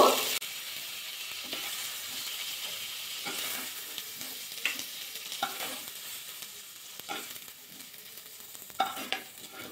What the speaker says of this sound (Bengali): এবার কপিটা ভাজা হতে দেবো। নাড়াচাড়া করে কপিটা ভাজা করে নিয়েছি।